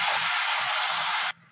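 A paste of tomato, onion, garlic and green chilli hits a hot pan for drumstick sambar, giving a loud, steady hiss that cuts off abruptly near the end.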